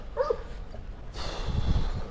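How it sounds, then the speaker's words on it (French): A pack of hunting dogs barks and yips at a trail junction on the mules' path to Col d'Ibardin, a few sharp barks early, then a busier stretch of rustling and movement near the recorder. "2 chiens, 3 chiens, la meute."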